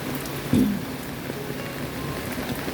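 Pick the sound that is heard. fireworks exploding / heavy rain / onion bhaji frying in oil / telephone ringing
heavy rain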